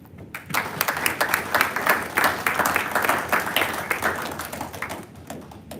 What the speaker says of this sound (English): So I'd like to give everybody a round of applause for making it such a great Derby this year.